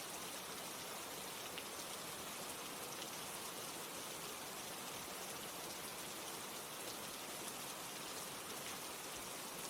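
Steady rain falls throughout, a dense, even hiss of raindrops hitting surfaces with no breaks, with no voices.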